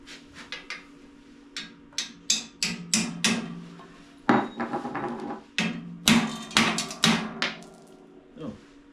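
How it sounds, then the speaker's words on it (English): A bronze hammer pounds the cones into the crank of a 1963 Schwinn Traveler bicycle, delivering many sharp metallic strikes in irregular bursts, close and loud with short gaps. "We're going to pound them in here with a bronze hammer."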